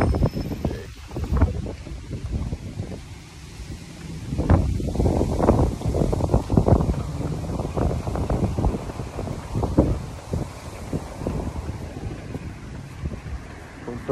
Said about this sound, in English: Of course, the wind's picking up.